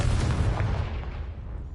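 A Confringo spell bursts in Hogwarts Legacy as a deep, booming blast that decays into a rumbling tail, loud and close with no talk over it.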